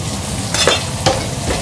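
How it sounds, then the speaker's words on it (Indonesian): Carrots fried in oil in a home kitchen, a steady close sizzle with a couple of louder stirring scrapes and crackles rising over the hiss. "Terus aku masukin wortel ya, soalnya wortel tuh keras."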